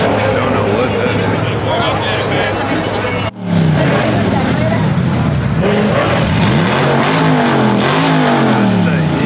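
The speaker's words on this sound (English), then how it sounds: "That's the Hemi." A Hemi engine revs loudly at a large hypercar meet in Texas, throaty bursts rising and falling close by amid crowd chatter and other idling cars, with people talking over it.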